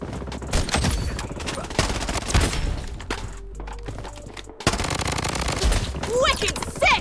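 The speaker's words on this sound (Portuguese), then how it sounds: "tá vendo esse monte de tiro aí, credo?" Dense, rapid bursts of automatic gunfire from a Blood Strike online shooter match, loud and sustained with brief gaps, plus sharper shots and clatter near the end, with a player's voice talking over it.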